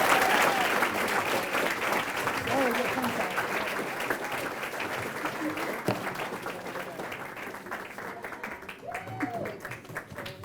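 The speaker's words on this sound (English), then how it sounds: "let's have a round of applause for this year's 8th grade Female Elks Award recipient, Isabella Mccall." Banquet audience at an annual Elks awards dinner applauds an eighth-grade award recipient, with sustained, full clapping and scattered voices and cheers mixed in, gradually thinning out.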